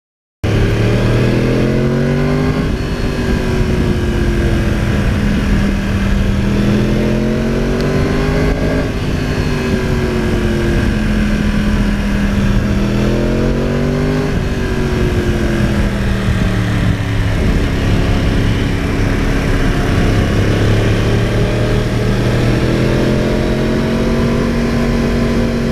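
A 2009 Yamaha R1 crossplane motorcycle engine under way on twisty roads, loud and continuous, its pitch climbing and falling through repeated rev sweeps and gear changes.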